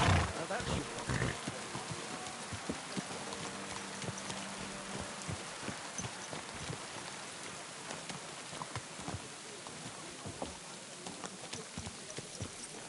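A horse's hooves clip-clop at a steady riding pace in Kingdom Come: Deliverance 2, a soft rhythmic patter over a faint rain-like background hiss, with no speech.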